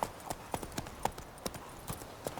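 Roach, a horse in The Witcher 3 video game, gallops with a quick, steady clip-clop of hooves, each hit crisp and close, in a brief run with no talk.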